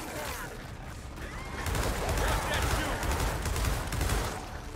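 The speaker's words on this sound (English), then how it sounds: "I shoot without aiming, man." Gears of War 4 gunfire rattles amid a dense, noisy battle mix, sustained bursts and impacts swelling louder in the second half, with a voice speaking in the middle.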